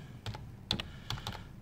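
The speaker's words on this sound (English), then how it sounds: "let me type in the credentials" Quick keystrokes on a computer keyboard while entering sign-in credentials, a short close burst of several clicks in an uneven rhythm with brief pauses, nothing else around them.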